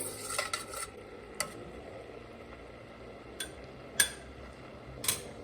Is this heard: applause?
no